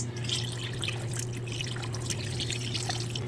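Water trickles weakly from a tap on a low-pressure supply, a steady, thin splashing with a constant low hum of a water pump underneath and no talk.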